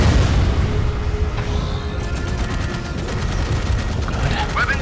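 Heavy booming gunfire in the video game Dark Void, loud and continuous with rumbling blasts and rapid bursts throughout, a voice talking in the mix.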